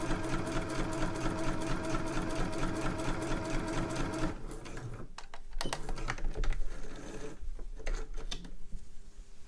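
Sewing machine chain-stitching a Christmas stocking with a rapid even mechanical chatter for about four seconds, then stopping into scattered clicks and handling noises.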